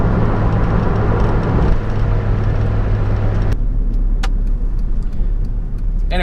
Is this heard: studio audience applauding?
no